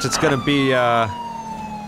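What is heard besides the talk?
police car siren in video game LSPDFR (GTA V mod)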